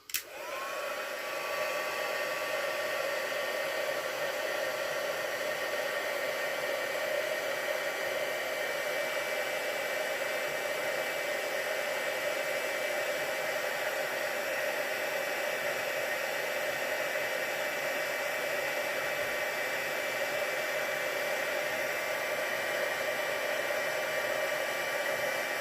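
A heat tool blows steadily on a Stampin' Up! card for nearly the whole stretch, a loud, even airy roar with a faint whine and no talk over it.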